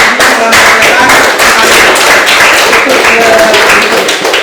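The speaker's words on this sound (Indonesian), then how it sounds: "Kita berikan tepuk tangan untuk" An audience in a classroom claps together in a dense, loud burst of applause that keeps going steadily from start to finish, with a few voices mixed into the noise.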